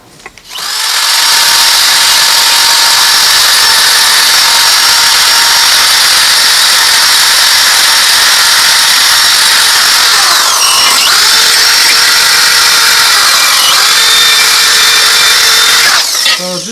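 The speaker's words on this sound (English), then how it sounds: "Just a couple passes with the wire wheel ends up polishing those welds, especially when it comes to flux core." Power-tool wire wheel polishing flux-core welds from a Harbor Freight 90 amp welder, a loud steady high whine running continuously with brief pitch dips as the wheel bites the metal, alone without talk.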